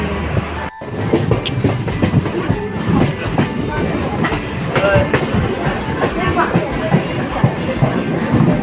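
Mumbai local train running steadily, heard from inside a first class coach, with a continuous loud rumble and rattle of wheels and carriage, people's voices mixed into the noise throughout.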